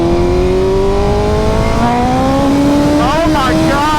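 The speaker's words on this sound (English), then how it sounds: "the downshifts are incredible" A BMW S1000RR engine roars at high revs and then drops in pitch through several downshifts. The loud, steady whine ends in quick blipping revs, heard over constant road and wind rush.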